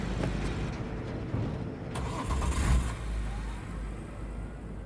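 Car engine starting up in the Cyberpunk 2077 video game, a low rumbling idle that swells briefly into a rev midway, steady and close, with no talking over it.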